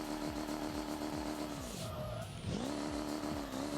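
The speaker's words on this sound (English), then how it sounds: "We drive and drift these truck builds down the mountain" A modded truck's engine in BeamNG.drive drones and shifts pitch while tires squeal through a drift down a mountain, loud and close with no talking.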